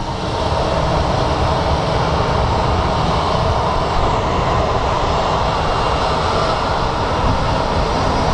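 An Airbus A321 airliner rolls out at Phoenix Sky Harbor International Airport, and its jet engines give a loud, steady, broadband roar that fills the whole stretch without pause, with no voices.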